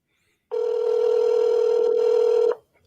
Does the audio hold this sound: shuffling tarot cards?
no